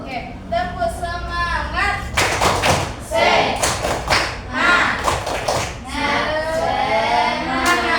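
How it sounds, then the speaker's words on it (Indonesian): Classroom pupils perform a rhythmic spirit clap, a tepuk semangat, in loud bursts of claps and thuds broken up by children's voices chanting and talking. "Oke, tepuk semangat."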